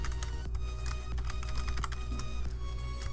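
Quick typing on a computer keyboard fills the recording with steady, close key clicks in an irregular rhythm over a low constant hum, and no one speaks.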